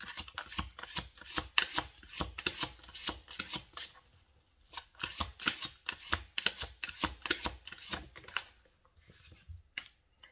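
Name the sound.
shuffling tarot cards for an advice card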